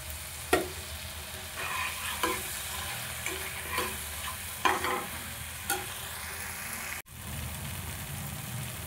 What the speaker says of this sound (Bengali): আরও একটু দুধ দিয়ে দেবো, দিয়ে খুব ভালোভাবে মশলাটা কষিয়ে নেবো একটু।